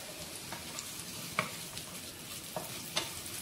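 Onions fry over low heat in a pan while being stirred for a Portuguese chicken dish, a steady soft sizzle broken by a few sharp scrape clicks from the utensil, close and alone with no talk.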